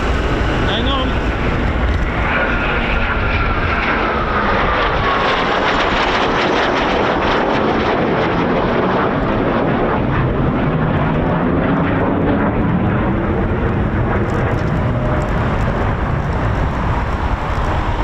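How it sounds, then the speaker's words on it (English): A Eurofighter Typhoon FGR4 jet roars through a display demo at RAF Coningsby, a loud, sustained engine rush with shifting pitch and wind buffeting, and a voice faintly underneath. "here comes a Typhoon now for a demo"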